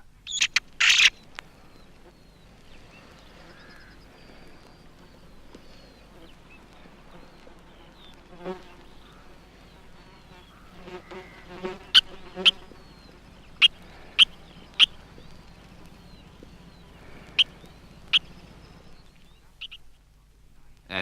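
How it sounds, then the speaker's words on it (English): Fledgling blackcap in woodland calling for food with repeated sharp, bright chips in an irregular series, loudest in the second half, set over a steady low drone of buzzing insects. "A fledgling blackcap calls for food against a background of insect sound."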